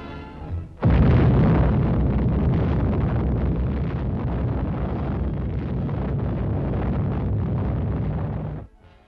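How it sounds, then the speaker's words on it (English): Atomic bomb blast from an Operation Crossroads test film: a sudden loud onset after a brief quiet, then a sustained deep roaring rumble that holds for several seconds before cutting off abruptly. "let's view the blast as filmed by another camera. Once again, we see the destructive power of atomic energy."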